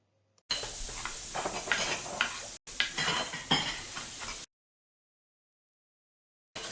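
Home kitchen cooking with pots and pans, steady stirring and sizzling with clinks of utensils in two bursts broken by a brief gap, then cutting off to silence.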